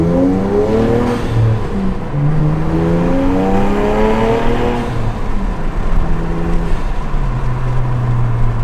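BMW 335i with a straight-pipe exhaust revving hard, loud sweeping engine tones climbing and falling through repeated rev cycles, close and sustained with no voices.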